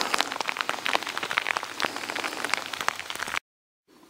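Steady rain patters and drips on surfaces during a hike on the Appalachian Trail in Maine, a dense close hiss with scattered louder drops that cuts off abruptly near the end, leaving near silence.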